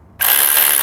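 A ratchet spins bolts into a Volkswagen Golf GTI engine during assembly, starting abruptly as one loud, continuous, fast whirring rattle, close and alone.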